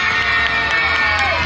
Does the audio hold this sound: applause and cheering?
yes